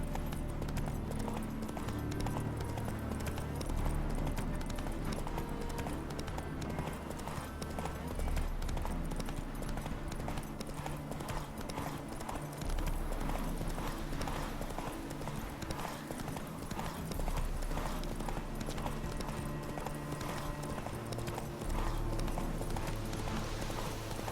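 Roach, Geralt's horse in The Witcher 3: Hearts of Stone, gallops hard, hoofbeats pounding in a rapid continuous rhythm under a dense layer of music and ambience, close and steady for the whole stretch.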